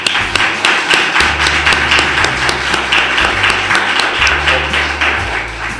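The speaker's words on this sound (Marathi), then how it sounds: "टाळ्या वाजवूया।" An audience claps together at a Christmas celebration in a Nagpur Church of the Nazarene, with loud, dense, sustained applause filling the room from start to finish.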